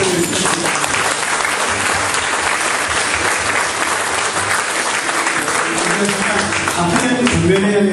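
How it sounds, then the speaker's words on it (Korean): Sustained audience applause at a seminar lecture in Cheongju, dense and loud throughout with steady clapping, a few voices mixed in near the end. "다시 한번 열띤 환영해 주신 강용호 강사님께 감사의 박수를 드립니다"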